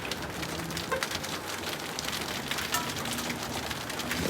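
Rain falls steadily during a hail storm, a dense, continuous patter on surfaces with scattered sharper drop hits, heard alone at moderate loudness.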